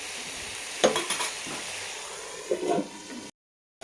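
Potatoes, poppy seed and Malabar spinach are stirred in a pan for a chachchari, giving two short bursts of spatula scraping over a soft hiss of simmering liquid before the sound cuts off.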